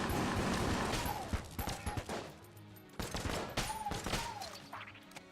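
Rapid, dense gunfire from the video game Enter the Gungeon, continuous volleys of shots with brief pauses and whooshing projectile sounds, loud and unbroken by speech.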